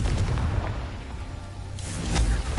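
A Confringo fire spell explosion in Hogwarts Legacy: a loud, close, low booming blast with rumbling tail, followed by a second sharper burst near the end.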